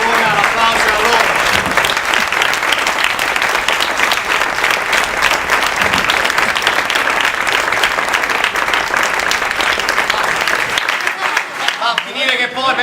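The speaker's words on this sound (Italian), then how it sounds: "dedicare l'ultimo applauso a loro" A theatre audience at an Italian stage comedy applauds warmly for the cast: loud, dense, continuous clapping that holds steady for several seconds, then thins out and fades near the end.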